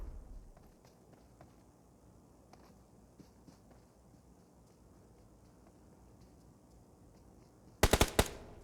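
Gunfire in the PUBG Mobile video game on the Livik map: after a long, quiet stretch with faint footstep-like ticks, a short, sharp burst of automatic shots breaks out near the end.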